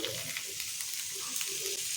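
Paneer frying in a pan for a dhaba-style malai paneer dish, giving a steady close sizzle with light stirring scrapes throughout.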